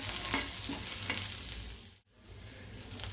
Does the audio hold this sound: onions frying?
yes